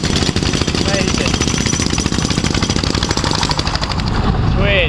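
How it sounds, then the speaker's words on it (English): A jackhammer hammers rapidly and continuously as it breaks up a road during roadworks in China, loud and close, with a steady rattling pulse and a voice briefly audible over the din. "Look at this guy with the jackhammer, one-handed."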